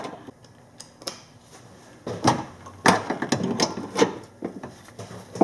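A breaker bar works loose a 14 mm engine mount bolt on a 2003 Nissan Maxima, with a few sharp clicks, creaks and metallic knocks that come in short irregular bursts, quiet at first and then louder.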